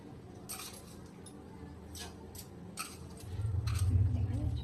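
A metal spoon clinks faintly against a cup while sugar is stirred into tea, a handful of light, scattered taps over a low background hum.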